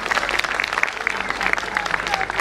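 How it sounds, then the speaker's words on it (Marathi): Audience applause at a Marathi teachers' award ceremony, honoring Ashok Hande: a dense, steady wash of many hands clapping across the hall, sustained and fairly loud throughout with no break. "टाळ्यांचा जोरदार गजर करूया आपण अशोक हांडे सरांसाठी."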